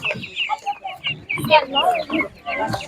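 Chickens cluck and squawk at a live poultry market, a busy overlapping chorus of short calls from several birds nearby, with voices mixed in.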